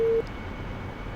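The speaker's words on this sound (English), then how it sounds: "Excuse the beacon going off on 243, it's just painful" Steady tone of a radio beacon on 243 in a DCS AV-8B Harrier flight simulator during a carrier landing pattern, a constant hum running under cockpit noise for the whole moment, preceded by a brief brighter tone.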